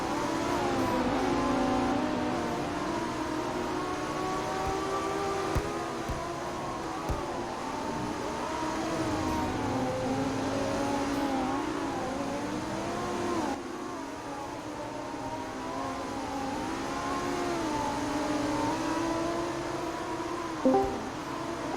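GT3 race cars roaring around a Mexican Grand Prix circuit in a racing video game, a continuous engine drone with shifting revs and the occasional passing car, steady and moderately loud throughout.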